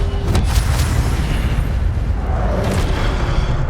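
An Incendio fire spell in Hogwarts Legacy erupts as a loud, sustained fiery blast with crackling bursts, dense rumbling roar filling the whole moment at close range.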